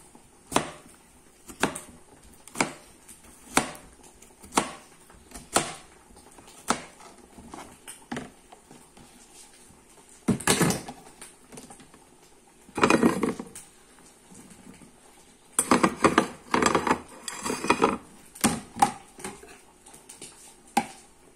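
Vegetables are chopped with a knife, producing faint isolated knocks on a board spaced about a second apart, then denser bursts of quick cuts later on, quiet and close with no talk.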